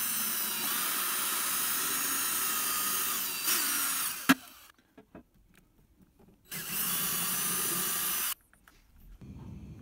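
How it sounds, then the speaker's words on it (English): A power drill whirs in two bursts of a few seconds each, drilling holes for a table bracket in a tight space inside a Mercedes Sprinter camper van, separated by a pause with faint clicks and handling noises. "I've got to drill some holes in this tight space here for the bracket for our new table"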